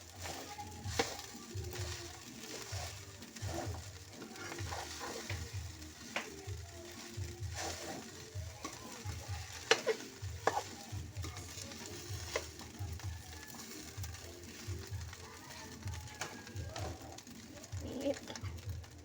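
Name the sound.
frying onion and garlic in a pan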